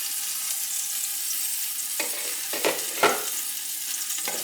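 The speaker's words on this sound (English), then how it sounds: "Onion is now sauteed, looking and smelling delicious." Chopped onion sautés in a pan with a steady, soft sizzle and a few clacks and scrapes of stirring, without any talking.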